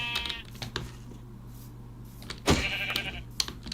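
Minecraft sheep bleat twice, a short cry early and a louder one midway, over a steady low hum and faint clicks.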